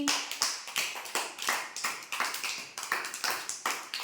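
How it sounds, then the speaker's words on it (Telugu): Young children in an anganwadi preschool class clap together, a rapid, uneven stream of sharp, overlapping claps close by that continues steadily throughout. "క్లాప్స్ కొట్టండి అన్వికాకి."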